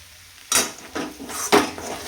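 Sabudana khichdi stirred in a pan: three distinct scraping clatters of a metal spoon against the pan about half a second apart, close and clear over a faint hiss.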